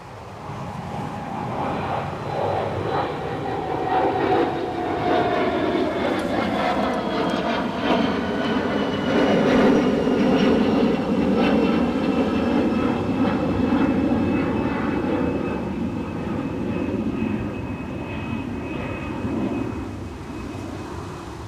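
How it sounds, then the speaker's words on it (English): An EasyJet passenger jet departs Newcastle International Airport, its engine roar loud and steady throughout with a slowly shifting whine as the aircraft turns away. "EasyJet on the way out, turning to Bristol."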